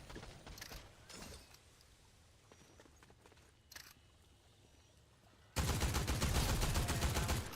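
Gunfire from a weapon in the Fortnite video game: scattered mechanical clicks and a few shots at first, then a loud, sustained burst of rapid automatic fire that runs to the end.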